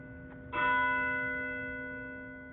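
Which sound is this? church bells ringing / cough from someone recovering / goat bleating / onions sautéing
church bells ringing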